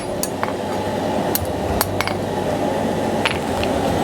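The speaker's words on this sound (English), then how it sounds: "I'm going to just tweak it down by holding the rivet in the vise" Metal clinks and taps ring out as forged blacksmith calipers are adjusted with the rivet clamped in a vise, several sharp strikes scattered over a steady shop background, close and fairly loud.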